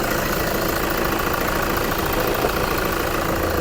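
A Toyota Fortuner's 3.0-litre D4D diesel engine idles steadily with the hood open, a constant close clatter and rumble with even loudness throughout and no talking.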